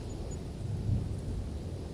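Low thunder rumbles steadily through a rainstorm, with a deep, continuous roll that swells slightly midway and never breaks into a sharp crack.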